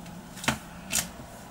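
Gold foil packaging of a Fujiya Home Pie snack gives two short, sharp crinkles, close and fairly loud, with quiet between.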